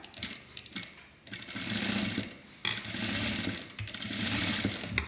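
A sewing machine stitches a high-neck blouse in quick mechanical bursts, whirring steadily, pausing briefly and then starting again, fairly close and alone.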